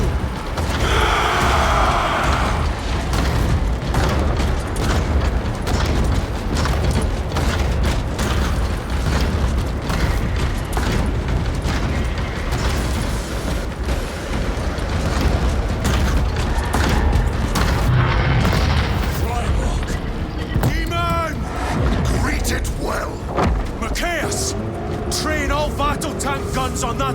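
Forces open fire in the Space Marine 2 video game, a loud, continuous barrage of booming explosions and gunfire with dense battle noise throughout and voices shouting over the din.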